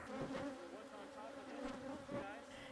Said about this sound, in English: So what we've had here on Maui are truly Maui bees.